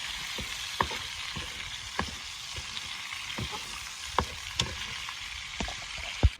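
Chicken frying with garlic-ginger paste in a karahi for white chicken karahi: a steady crackling sizzle broken by sharp, irregular scrapes and taps of the spatula against the metal pan.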